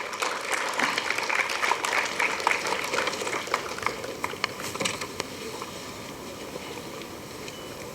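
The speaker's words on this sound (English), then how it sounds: "Can we have a round of applause for all of them?" Indoor audience applause welcoming guests at a panel session on spiritual organizations, a dense steady patter of many hands clapping that gradually thins and softens toward the end.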